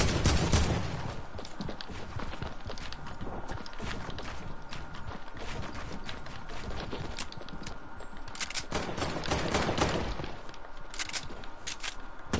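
Dense, sustained gunfire in Fortnite, a steady crackling barrage of shots throughout with a heavier burst near the end and no clear talk.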